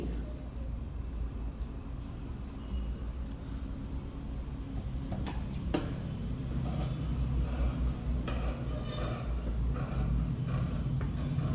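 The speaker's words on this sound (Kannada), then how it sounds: "ಈಗ ನಾವು ಹಾಫ್ ಇಂಚ್ಗೆ ನೀಟಾಗಿ ಕಟಿಂಗ್ ಮಾಡ್ಕೊಂಬಿಡಿ" Scissors cutting fabric for a boat neck blouse, a steady rasping snip and rub of blades through cloth at close range, continuous and low over a light background hum, with no talk.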